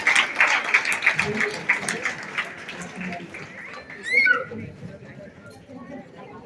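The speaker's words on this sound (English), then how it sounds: "A big round of applause for Swara Yankikar." A crowd at a school annual function claps in a dense burst of applause that gradually thins, mixed with chatter and a few shouts.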